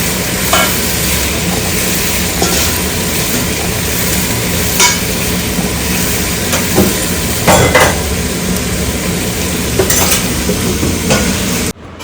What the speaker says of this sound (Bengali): তাই জন্য আলু ভেজে দিচ্ছি।